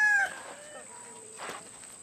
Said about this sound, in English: So here's the chicken coop.